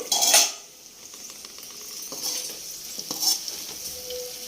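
Chicken frying for biryani in a pan, a burst of metallic clatter as the lid goes on, then a muffled sizzle underneath with scattered light clinks.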